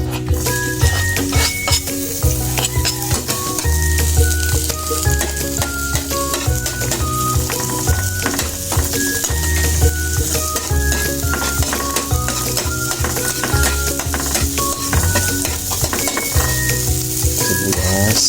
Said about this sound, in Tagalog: Ito na po yung kawali na may mantika na pinainitan. Then, sunod po natin itong sibuyas.